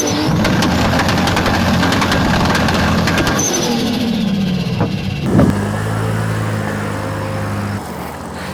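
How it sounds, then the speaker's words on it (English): Turbocharged car engine fitted with a manual dump valve, said to resemble a 2JZ, revving loud and close, dropping in pitch with a sharp burst near the middle before settling into a steady idle. "So we've had to go with a manual kind of dump valve on this, which sounds absolutely amazing."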